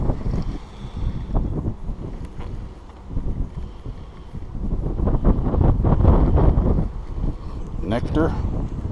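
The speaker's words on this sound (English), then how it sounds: "Realize it was this windy up here." Strong wind buffets the microphone in rough, roaring gusts, with a low rumbling that swells and eases over several seconds.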